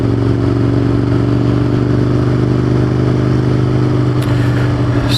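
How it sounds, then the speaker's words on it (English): An Aprilia RSV 1000R motorcycle rides at a steady, loud engine drone with constant road and wind noise close to the rider throughout. "that ends the shakedown ride of the Aprilia RSV 1000R"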